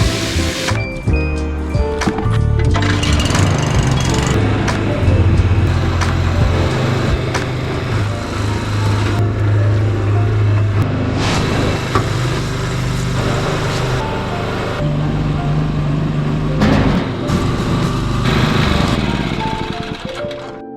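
A mixer blends a three-to-one sand and cement plaster for a first coat, its motor a loud, continuous close-up drone that churns unbroken for about twenty seconds, with no speech.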